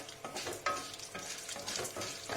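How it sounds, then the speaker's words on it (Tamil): Urad dal and chana dal fry in a pan for spicy paniyaram, a close, steady sizzle with rhythmic scraping strokes as a spatula stirs the lentils around. "போட்டுட்டு நல்லா வணக்கி விட்டுருங்க."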